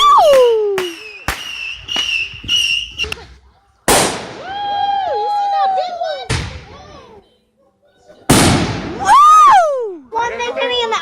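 Fireworks going off on July 3rd: sharp bangs and crackling bursts at intervals, some followed by whistling and fizzing trails, with quiet gaps between the louder explosions.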